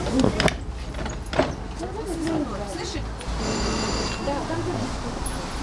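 An electric doorbell at a dormitory entrance in Dnipro rings briefly amid background voices and shuffling near a closed door.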